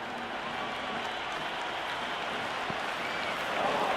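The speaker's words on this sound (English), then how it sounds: "The crowd is electric right now." A stadium crowd applauding and cheering in the Cricket 26 video game, a steady wash of clapping and crowd roar during a simulated IPL match, unbroken and fairly loud throughout.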